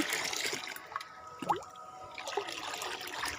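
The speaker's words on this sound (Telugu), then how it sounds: "ఇది కూడా పోసేస్తున్నా." Liquid plant fertilizer for fruiting and flowering plants is poured out in a soft, steady trickle with faint splashing, fairly quiet and close, with no talking.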